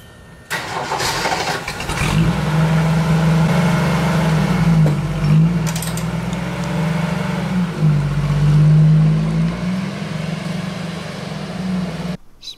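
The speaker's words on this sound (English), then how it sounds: "Time to take her out for a test ride." A Jeep cranks and its engine catches, settling into a loud, steady idle with rising revs before pulling away on a test drive after a drum-to-disc brake conversion. The engine hums continuously throughout, with no talk.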